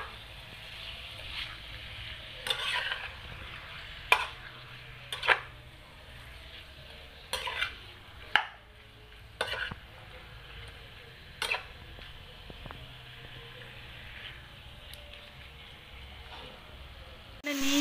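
Chicken curry stirred and mixed in a pan, with faint, spaced scrapes and clinks of a utensil against the pan recurring every second or two over a quiet background.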